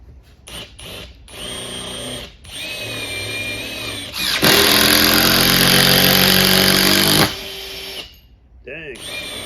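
A power drill with a Phillips bit drives a 3-inch screw into wood, whirring in short starts before a long loud strained run that stops abruptly, close up, with a voice briefly heard at the end.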